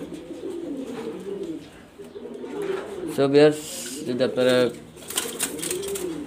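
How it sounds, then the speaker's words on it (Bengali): Pigeons, including a molting female, coo in a rooftop loft in Mirpur 2, Dhaka, with repeated soft throaty coos running throughout, close and fairly loud, beneath someone talking in the middle and near the end. "দেখার মতো কবুতর।"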